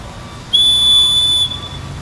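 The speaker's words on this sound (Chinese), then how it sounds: "哨子声响起后" A single sharp whistle blast, steady and loud, held for about one second at a construction site, with a faint background hum before and after.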